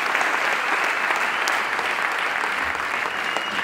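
A crowd at an opposition political convention breaks into sustained, dense applause, loud and continuous for the whole stretch without a break.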